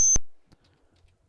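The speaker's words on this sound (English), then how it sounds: "It seems to be emitting a high-pitched beep." A flashing button in the Space Quest game gives off short high-pitched electronic beeps, one at the start and another after a second of near silence, clear and alone.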